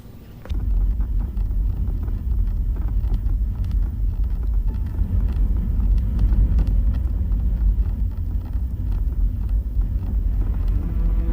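A car driving steadily, its low engine and road rumble continuous and fairly loud throughout, with some wind-like noise over the top and no voices.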